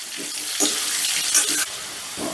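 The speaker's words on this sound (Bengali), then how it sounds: "আলুগুলোকে বেশ লাল লাল করে ভেজে নেব আর এই সময় অবশ্যই গ্যাসের রাস্তা বাড়িয়ে দেবে" Potatoes fry in oil over a high gas flame for a soybean dopiaza, giving bursts of close hissing sizzle that swell and fade in uneven waves.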